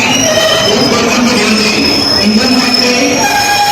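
The Danapur Jogbani Intercity Express rolls through Darbhanga Junction with a loud, close, steady clatter of rail cars and thin, sustained wheel squeals rising and fading over the rumble.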